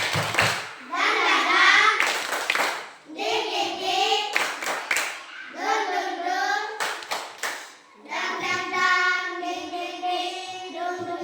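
Classroom children perform a rhythmic spirit clap, chanting together in sung phrases punctuated by sharp unison hand claps in a repeating pattern, close and lively.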